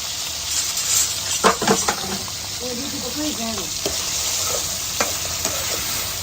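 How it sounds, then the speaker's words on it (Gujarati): Sliced bitter gourd fries in hot oil with a steady sizzle, broken by stirring clatter and a few scraping, bubbling bursts close by. "જ્યાં સુધી હલકા બ્રાઉન ના થાય ત્યાં સુધી આને ફ્રાય કરતું રહેવાનું છે"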